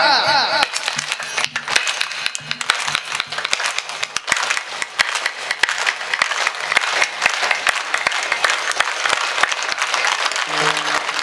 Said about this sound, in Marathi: माझ्या पाठीमागे एक टाळी वाजवायची सर्वांनी